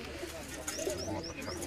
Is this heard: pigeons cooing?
yes